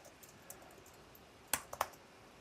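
A layer name is typed on a computer keyboard: a few quiet, scattered key clicks followed by a short burst of three sharper taps, close but faint.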